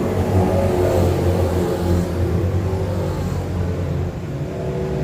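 Race cars at Can-Am Speedway roar steadily down the track on the first lap of a heat race, a loud continuous engine drone with layered revving that barely dips throughout.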